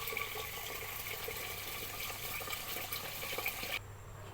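Water runs steadily into a sink basin as rice is washed, a continuous close rushing splash that cuts off abruptly near the end, with no talking.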